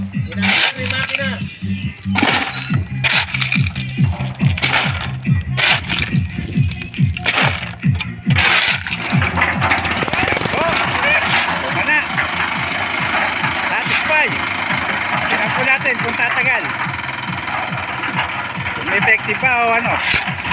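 A concrete mixer engine sputters and turns over, then settles into a steady running rumble with voices talking over it and some clanking.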